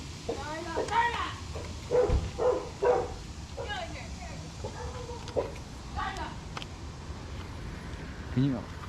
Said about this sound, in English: that's my dog being dumb and chasing everybody.